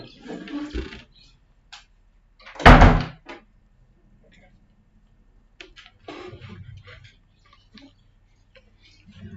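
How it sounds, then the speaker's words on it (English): A loud single knock or thud at a front door, heard once between stretches of nearby talk, with a few fainter taps and clicks around it. "It's the door."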